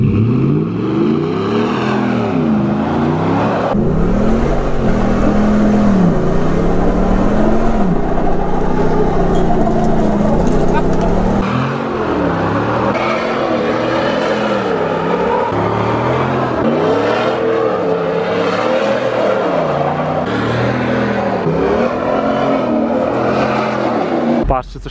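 Hummer SUV driving off-road through brush, its engine droning and surging steadily and loudly throughout, with people talking over it.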